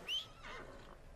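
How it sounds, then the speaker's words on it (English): A horse in the Red Dead Redemption 2 video game gives a short, high whinny that fades into a fainter breathy snort, quiet and alone. "Let me call my horse over if I'm close enough."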